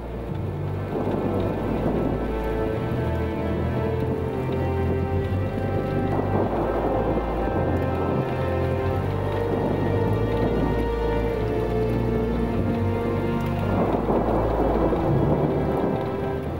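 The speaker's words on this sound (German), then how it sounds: "Als er durch den Wald kam, zog ein Gewitter auf." Heavy rain pours steadily on a forest while thunder rolls low and long, swelling again partway through, with no voices.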